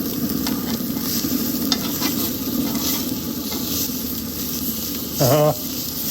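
Steak sizzling and searing in a cast iron pan at 650 degrees on a Pit Boss portable pellet grill, a continuous crackling hiss with occasional scraping stirs and a brief tonal squeak near the end.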